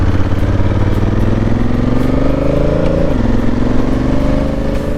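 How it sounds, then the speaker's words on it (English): A Honda Africa Twin motorcycle engine rumbles steadily and loudly up close, its pitch climbing as it revs, dipping briefly, then rising again. "Half of the satisfaction of riding your bike comes from the sound of the exhaust"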